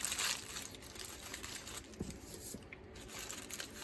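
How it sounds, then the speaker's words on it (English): A sheet of wax paper crumpled by hand for journal crafting, giving quiet, close crinkling and crackling with a few sharper snaps, faint and irregular. "you use this piece of wax paper, you crumple it up."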